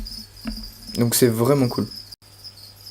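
A feeder cricket chirps in a steady, continuous high trill, held as prey for a pet. It runs throughout, with someone speaking French over it partway through.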